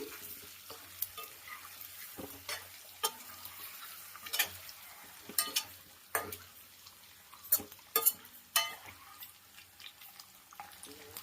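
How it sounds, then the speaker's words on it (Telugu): Ingredients for a prawn and egg curry fry lightly in oil, a soft sizzle under irregular clinks and scrapes of a spatula stirring in the pan, fairly quiet and close. "ఎక్కువ ఫ్రై అయినా బాగోదండి లైట్గా ఫ్రై చేసేసుకుందాము"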